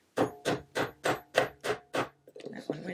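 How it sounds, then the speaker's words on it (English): Seven sharp, evenly spaced hammer strikes drive a nail into a wooden frame close by, the nail held with needle-nose pliers, followed by a few lighter taps and faint clatter. "I'm going to use the needle nose plier here to hold the nail while I hammer it in place"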